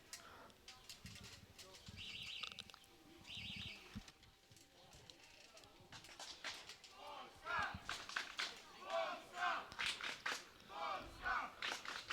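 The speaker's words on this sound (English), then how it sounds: "So you can just hear the Polish crowd chanting there" A Polish crowd chants at a youth archery competition, rhythmic group shouts rising in repeated bursts in the second half, following quieter calls and cooing birds early on.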